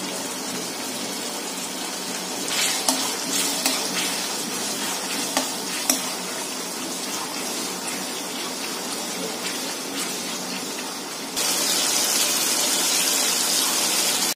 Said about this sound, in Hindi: अब हम इसे करीबन 1 से 2 मिनट टमाटर पकने तक भूनेंगे।